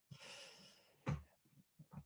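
A dog hacks and wheezes in short, raspy bursts, a drawn-out wheezing breath followed by a sharp cough and a few quieter snorts, close by.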